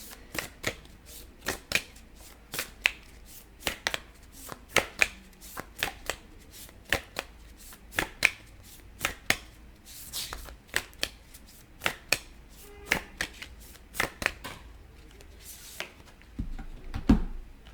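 Tarot cards shuffled by hand, a steady series of sharp riffling snaps at roughly one-second intervals, close and crisp over a quiet background without talking.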